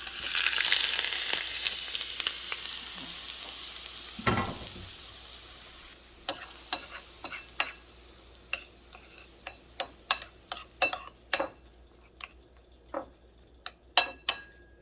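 Hot oil poured over ginger, garlic and scallions hisses loudly at first, then fades into scattered pops and ticks as it settles.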